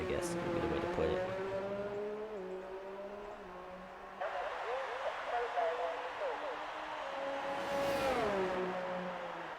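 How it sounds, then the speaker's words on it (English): The Renault Formula 1 car engine from the F1 2019 racing game at the Canada Grand Prix screams at high revs, rising and falling through gear changes in long sweeping tones with a sharp shift partway through. "Never have really been much of a fan of how the Renault sounds in this game"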